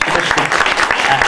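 A crowd at a Bengali gathering applauds a singer, loud continuous clapping from many hands that stays level and close for the whole stretch, with no one speaking.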